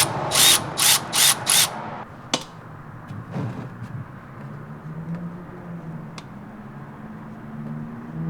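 Ratchet clicking in four quick bursts at close range as it loosens the transmission drain nut on a Honda Civic Type R, followed by a few scattered metallic taps and a low background hum.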